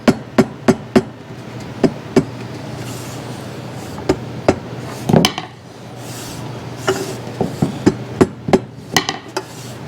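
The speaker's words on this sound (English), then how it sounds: "the other weapon that you want to have ready to go is a mallet" A mallet taps a clamped cherry cabinet panel in a workshop, sharp wooden knocks in irregular bursts, some quick runs of three or four hits, loud and close with no talk.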